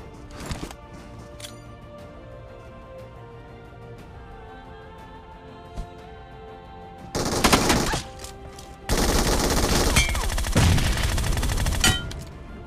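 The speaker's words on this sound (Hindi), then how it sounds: "भाई के पास था MG3 लाइट मशीन गन" An MG3 light machine gun fires in PUBG/BGMI in loud sustained bursts, the first lasting about a second and a longer rattling stream following, both close, above quiet game ambience with scattered earlier shots.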